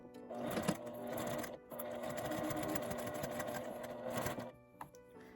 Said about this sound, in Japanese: 開いて表側にミシンをかけます。